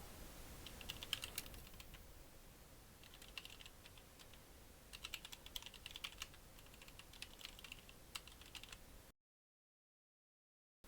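Fingers tap on a computer keyboard in quiet, irregular bursts of clicks with short pauses between runs, close by and low in level, then silence for the last couple of seconds.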